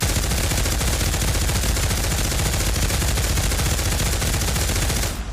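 An M249 light machine gun fires in sustained automatic bursts in the virtual reality shooter Pavlov, a dense, loud, continuous chatter of rapid shots that cuts off abruptly near the end.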